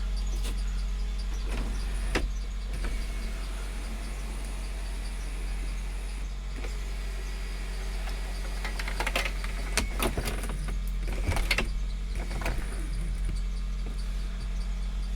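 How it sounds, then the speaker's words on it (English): An electric sunroof on a car more than 20 years old motoring open, a steady low mechanical whine with a few clicks and clunks, heard close inside the cabin with no talking. "And you got a nice little sunroof on here."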